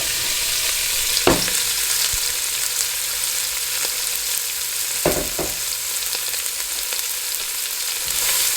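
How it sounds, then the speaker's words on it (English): Vegetables stir-frying in a hot electric wok, a constant loud sizzle with a few sharp scrapes and taps of a spatula. "This is the fun part, stir-frying up the veggies."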